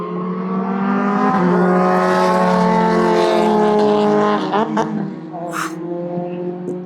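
Formula race cars speed past on a race track, their high-pitched engines rising and falling as they go by nearby and loud, followed by further brief engine bursts as they pull away.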